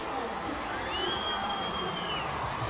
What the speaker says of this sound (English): The crowd is really beginning to heat up.